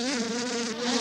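Honeybees swarming an intruding beetle, a close, loud, steady buzzing drone with a clear pitch that holds for about a second.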